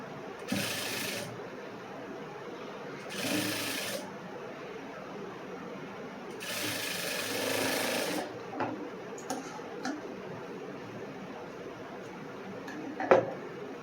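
A sewing machine stitches a cross-cut blouse seam in three short bursts, each whirring run lasting one to two seconds, followed by soft clicks and handling of fabric and parts.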